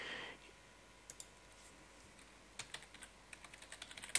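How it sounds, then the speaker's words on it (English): A computer keyboard being typed on at a desk, with scattered light key clicks that quicken into a steady run of taps toward the end over a faint hum of room noise. "we just type in FileZilla in Google"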